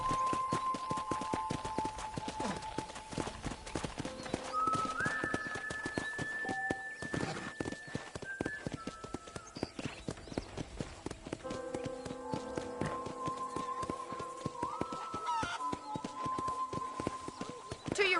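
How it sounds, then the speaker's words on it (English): Horse hooves clip-clop in a steady walking rhythm on a ranch in the video game Red Dead Redemption, layered with game music tones and ambient sounds, moderately close. "let's see if you can still ride a horse"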